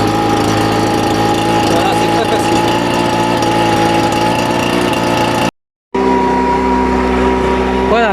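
Petrol garden leaf blower and vacuum shredder engine idling nearby, a loud, steady buzzing drone that cuts out briefly for a moment and then resumes at the same even idle.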